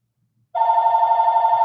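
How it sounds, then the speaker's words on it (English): A telephone rings in a single sustained, steady electronic trill that starts abruptly after a brief silence and carries on loud and close with no voices. "Why is my phone ringing?"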